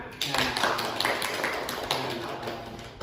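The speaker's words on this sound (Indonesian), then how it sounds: "berikan tepuk tangan" A small group of students in a classroom claps steadily for a few seconds, a close, busy patter of hands with faint voices beneath.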